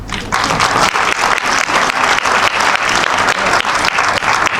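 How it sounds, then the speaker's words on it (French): Dense, loud audience applause at a comedy gala in Cannes fills the whole stretch in a steady, unbroken wash of clapping, with no voice over it. "Il y a des parents ce soir par applaudissement?"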